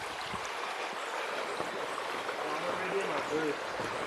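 Stream of water flowing through a forest in Pisgah National Forest, a steady broadband rush of running water heard nearby throughout, with faint voices and scattered small sounds over it.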